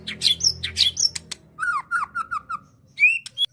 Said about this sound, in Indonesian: Burung murai batu disebut dalam bahasa Latin Copsychus malabaricus